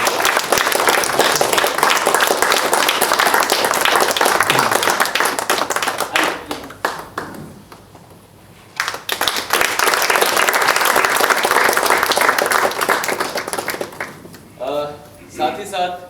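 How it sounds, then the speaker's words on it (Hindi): Loud, dense applause from a sizable theatre audience at a Hindi stage play fills most of the time, dipping briefly in the middle before surging again; a voice speaks near the end. "एक बार जोरदार तालियों से"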